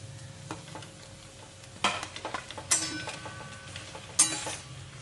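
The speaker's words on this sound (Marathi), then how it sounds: "याला चांगलं परतून घ्यायचंय" Spiced potato filling for pav vada, with asafoetida and turmeric, sautés in a pan: a soft constant sizzle with a few distinct clanks and scrapes of a spoon stirring, heard up close without speech.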